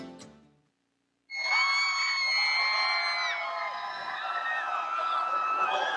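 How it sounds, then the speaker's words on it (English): A large crowd at a 1989 high school state championship football game at Autzen Stadium erupts in sustained cheering and whooping after a brief silence, loud and continuous to the end. "There you see part of the enthusiastic crowd."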